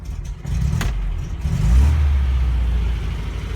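A 1969 MGB GT engine runs near the microphone with an idle that needs adjusting, holding a steady low rumble that swells briefly as the revs rise, then settles, with no talking.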